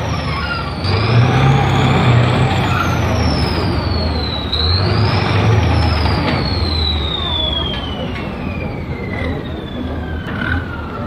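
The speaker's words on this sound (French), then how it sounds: "avec un moteur de 300 chevaux qui lui permet d'atteindre une vitesse de 60 km/h" A French wheeled artillery vehicle with a 300 hp engine drives by at a demonstration, making a loud, continuous rumbling roar with a high whine that rises and falls throughout.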